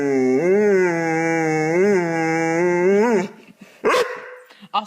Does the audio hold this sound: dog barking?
yes